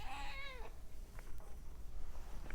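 A pet cat gives a short, high, wavering meow close by, followed by quiet rustling and faint background hum.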